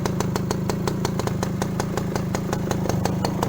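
A Yamaha Alfa motorcycle engine runs close by with a rapid, even, throbbing putter that stays steady and fairly loud throughout, with no speech over it.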